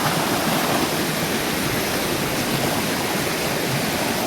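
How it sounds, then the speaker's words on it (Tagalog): A big river flows nearby as a steady, loud broadband rush of water, continuous and even throughout with no talking. "malaking ilog."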